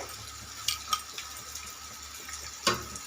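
A pan of bitter gourd fry is stirred, soft scraping and sizzle running underneath a few sharp clinks of the spoon against the pan, the loudest near the end; no one speaks.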